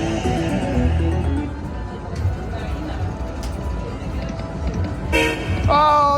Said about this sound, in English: Oh, the Dragon Train sound. That's what everybody wants to hear.